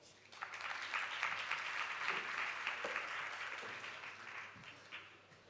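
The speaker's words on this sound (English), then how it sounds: "Please, clap her onto stage." Steady applause from an audience, a dense wash of clapping that holds for several seconds before starting to thin out.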